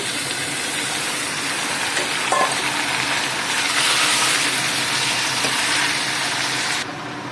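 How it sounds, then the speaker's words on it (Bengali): Meat dropped into a hot pan of browned ginger, garlic and onion gives a loud, steady broadband sizzle that holds throughout, swelling slightly midway and easing near the end, with no talking. "এখানে আদা রসুন পেঁয়াজ সব বাদামি কালার হয়ে গেছে। এখানে মাংসটা দিয়ে দিচ্ছি।"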